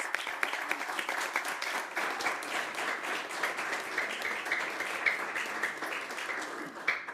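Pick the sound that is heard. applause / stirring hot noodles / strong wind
applause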